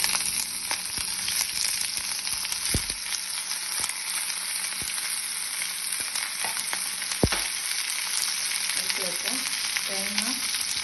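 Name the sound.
ivy gourd (kovakka) frying with curry leaves in pan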